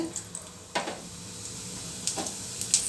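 Cumin seeds frying in hot oil give a soft, steady sizzle close by, broken by a few sharp clinks of a utensil against the pan, with no talking.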